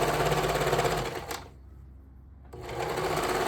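Sewing machine stitching up the sleeve of a leotard, a loud, close, rapid mechanical whirring that pauses for about a second before resuming at the same steady pace.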